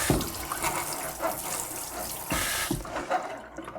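Tap water runs and splashes into a kitchen sink during a quick rinse, a steady broadband rush with a few sharper surges and gurgles before cutting off near the end, close and fairly loud.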